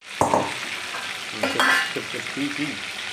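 Brinjals frying in a pan for a stuffed eggplant curry, a steady close sizzle with a few louder crackles and stirring scrapes, no talk over it.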